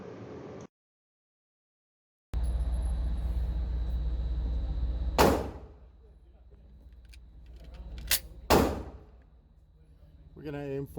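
A Taurus G2C pistol fitted with an aftermarket trigger and recoil spring fires at a shooting range: three loud, sharp reports, one alone and then a quick pair, each with a short echoing tail over a steady low outdoor rumble.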